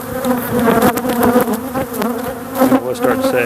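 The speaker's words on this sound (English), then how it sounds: "Bees on the frame outside have kind of settled down." Honeybees buzz densely around a hive frame outside, a loud steady hum with wavering pitch from many wings close up, no talk.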